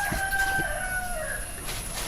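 A rooster crows once, fairly near, over a steady background hum.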